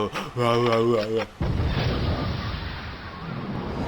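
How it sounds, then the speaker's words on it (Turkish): A nuclear bomb goes off in the Whack Your Boss 2 video game, a huge roaring blast that cuts in after a short musical jingle and keeps rumbling loud and steady to the end. "Onun içinde bir nükleer bomba varmış arkadaşlar"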